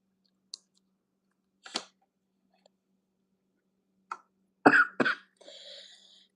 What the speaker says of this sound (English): Sorry about my cough's acting up.